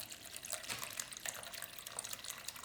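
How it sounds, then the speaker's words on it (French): Coconut water poured into a blender for a fresh juice, a soft steady liquid splash and trickle that stays quiet and continuous for a few seconds with no talk. "Là, j'ajoute 500 ml d'eau de coco"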